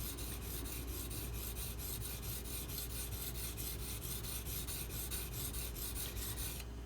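A Benchmade Mini Crooked River knife blade is worked on a coarse sharpening stone, giving a steady, continuous rasping scrape with even repeated strokes, close and alone.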